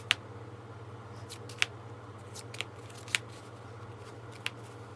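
Tarot cards being shuffled and drawn give a handful of sharp, quiet flicks and snaps spaced irregularly over a low steady room hum.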